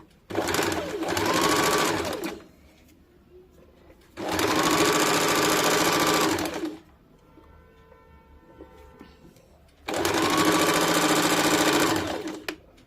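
A sewing machine stitches a blouse in three loud, sustained bursts of rapid whirring, each lasting a couple of seconds, separated by quieter pauses.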